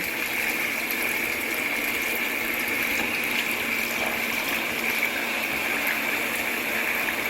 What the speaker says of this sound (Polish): Bierzemy mikser i ubijamy pianę.